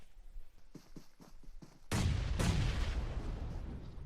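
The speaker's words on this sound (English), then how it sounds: "that nade blows Tian back with a blinking health bar" Grenade going off in the PUBG battle royale game: a few soft taps, then a sudden loud blast followed by a second burst and a rumbling tail, with no voices.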